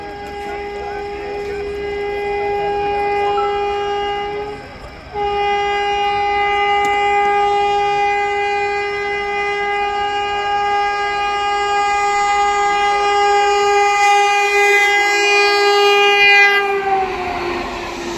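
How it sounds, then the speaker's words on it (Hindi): An Amrit Bharat train approaches with a long, loud, steady horn blast lasting many seconds, then its rumble and wheel noise swell as it passes close by. "सामने से आ रही है अपनी अमृत भारत और इधर से भी कोई ट्रेन आ रही है"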